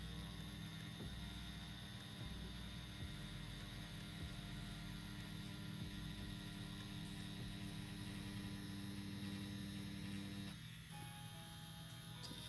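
A tattoo pen machine lining on silicone practice skin, giving a steady, faint mechanical hum that runs throughout with a slight change near the end, and no talking.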